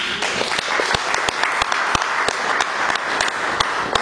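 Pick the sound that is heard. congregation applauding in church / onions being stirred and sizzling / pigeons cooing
congregation applauding in church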